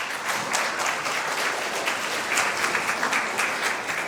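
Audience applause welcoming a contestant at a university Korean speech contest for foreign students, a dense, even patter of many hands clapping continuously at moderate volume.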